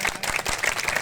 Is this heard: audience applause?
yes